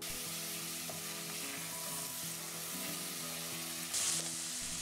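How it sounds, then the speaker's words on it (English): Diced onions stir-frying in hot olive oil in a saucepan, a steady close sizzle with low stirring scrapes throughout and a brief louder hiss near the end, no talking. "add your diced onions and stir fry for a couple of minutes"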